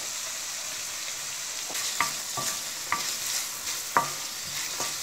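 Onions and tomatoes sauté in a pan for palak paneer, giving a steady sizzle with a few sharp scraping clicks from the stirring spoon, close and alone with no talk.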